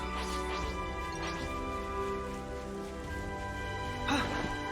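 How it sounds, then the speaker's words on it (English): Steady rain in the video game Xenoblade Chronicles 3, a constant hiss of falling water under faint game music, with a brief louder splash or crackle near the end. "It's raining right now."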